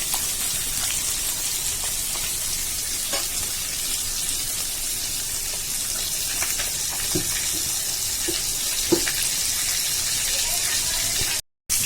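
Steady rain falling on a rainy day in a village, a soft, even hiss of drops with a few scattered louder patters, fairly quiet and continuous.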